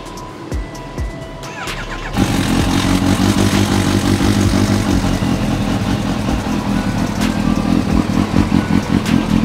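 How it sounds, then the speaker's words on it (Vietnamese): A Kawasaki Ninja H2 motorcycle engine starts after some clicking and handling noises, then settles into a loud, rough, throbbing idle with small revs, close to the microphone. "Rồi bây giờ mình sẽ đề máy cho anh em nghe cái tiếng bồ xíu ha"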